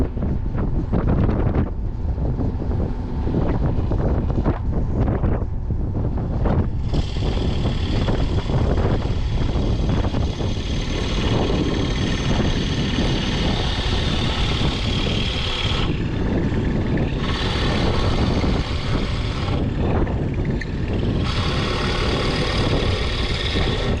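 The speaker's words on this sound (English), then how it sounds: "This is that cypress, so it's actually a pretty soft wood. Forstner bit does not clean itself out like a regular drill bit," A drill press with a Forstner bit bores into soft cypress wood, giving a loud, steady motor drone with a grinding, rushing texture that runs without a break for the whole stretch.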